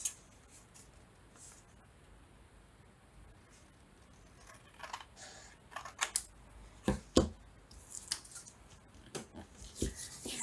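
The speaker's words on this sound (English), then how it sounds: "what I want to do is cut down these sides just a little more because they're a bit wide on the edges" Scissors trim the over-wide side edges of a decorated paper ephemera piece, making quiet, irregular snips that start after a hushed pause and grow more frequent toward the end, with no talking.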